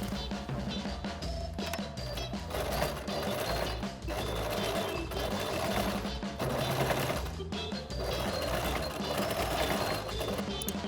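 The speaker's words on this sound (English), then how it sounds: "And now I'm going to top stitch the hem in place all the way around the circumference of the" A domestic sewing machine topstitches the hem of a Mary Quant-style mini dress, running in a continuous rapid mechanical chatter with brief pauses and restarts.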